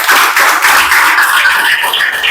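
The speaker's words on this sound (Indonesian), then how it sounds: "Beri aplaus untuk kalian semua dulu." A classroom of children claps in applause, a dense, steady patter of many hands, loud and close, continuing evenly for a couple of seconds.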